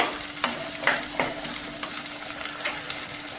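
Onion and garlic sautéing in a pan for vatha kuzhambu, a close, loud sizzle broken by quick scraping stirs at a brisk, uneven rhythm.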